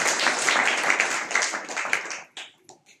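A church congregation claps in praise during a worship service, a dense burst of applause that thins into a few scattered claps before fading out.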